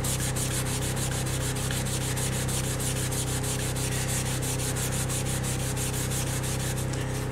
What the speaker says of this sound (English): making sure I sand off all the clear coat that's on these